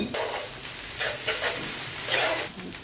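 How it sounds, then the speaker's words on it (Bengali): Steady sizzling of onion, ginger and garlic frying in a pan, with soft scraping and stirring sounds, close and continuous, no voices. "আদা রসুনটা আমি পেঁয়াজের সাথে হালকা করে ভেজে নেব"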